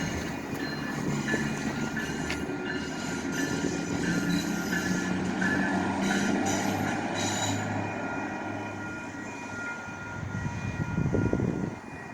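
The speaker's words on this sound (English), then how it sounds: "that's the first train I've seen" A SMART commuter train of Sonoma Marin Area Transit passes through Santa Rosa, California, on the old Northwestern Pacific line by old freight houses, with a steady rumble and wheel squeal building and fading, heard from trackside without talk.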